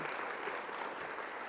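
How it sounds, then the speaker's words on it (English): Steady audience applause fills a hall at a student affairs awards ceremony, a continuous wash of clapping from a large crowd, fairly even in loudness throughout with no voices standing out. "let's give everyone a round of applause"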